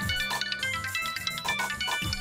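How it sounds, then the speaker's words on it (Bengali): A mobile phone ringtone plays loud and close, a bright repeating melodic tune with a steady rhythm that fills the short moment without any voices over it. "বাবা আপনার ফোন বাজছে"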